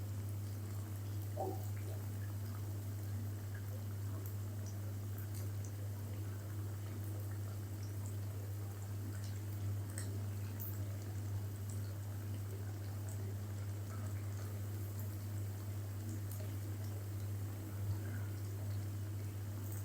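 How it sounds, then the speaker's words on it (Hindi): Rice flour and potato snacks fry in hot oil, giving a steady, moderate bubbling sizzle that carries on evenly, with a constant low hum underneath and no voices. "अब हम ना इसको तब तक फ्राई कर लेंगे जब तक प्यारा सा गोल्डन कलर नहीं आ जाता"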